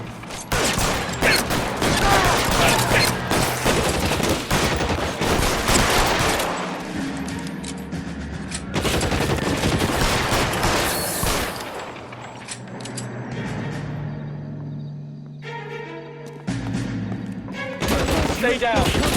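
Gunfire rattles through a shootout in the LA Noire video game: long, loud bursts of rapid shots with short pauses between them and shouted voices mixed in.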